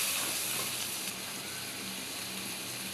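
Prawns fry in a pan with ginger, garlic, onion paste, dried chilli, turmeric and salt, giving a steady, close sizzle and hiss that carries on evenly throughout without talk.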